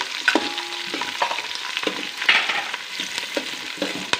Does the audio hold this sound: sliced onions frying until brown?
yes